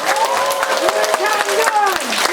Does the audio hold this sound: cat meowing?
no